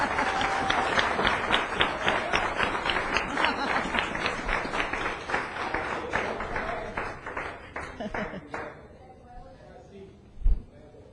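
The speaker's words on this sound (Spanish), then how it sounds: "Dale un aplauso." A church congregation claps during a sermon, a dense fairly loud patter that thins and fades toward the end, ending with a single low thump.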